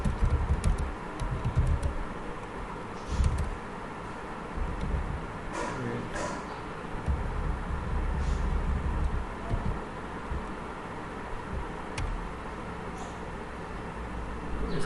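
A computer keyboard is typed on in scattered bursts of light clicking, set against a steady background hum and noise.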